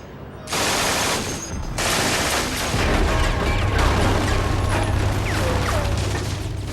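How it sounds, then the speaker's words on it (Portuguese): An MG-42 machine gun fires in long, extremely rapid bursts that blur into a continuous tearing roar, separated by a brief pause, with a low rumble underneath. "A MG-42 é tão rápida que não se pode ouvir seus tiros individuais."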